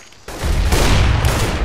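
A loud, close, sustained burst of AK rifle fire in Counter-Strike GO competitive play, the rapid shots merging into one dense roar after a brief quiet start.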